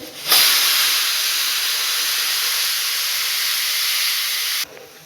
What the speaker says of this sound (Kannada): ಇವಾಗ 2ನೇ ವಿಸಿಲ್ ಬರ್ತಿದೆ